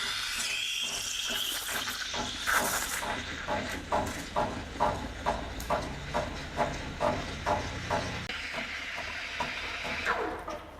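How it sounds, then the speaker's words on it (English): The steam wand of a Romola Nex DR7107 semi-automatic home espresso machine hisses steadily, with a rhythmic series of gurgling pulses as it works, close and fairly loud throughout. "now we're going to test the steaming function"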